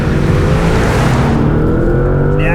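A Porsche Panamera GTS engine with an 8-speed PDK gearbox revs hard under brutal acceleration, a loud, continuous, rising drone that fills the clip close up, easing slightly near the end.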